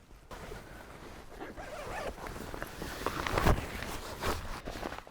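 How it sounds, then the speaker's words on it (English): Zippers on the bed netting of a Mercedes Sprinter 144 camper van rasp open in several short, close pulls, irregular scratchy bursts of varying length against quiet background. "you can access these zippers to allow you to fold down the actual netting."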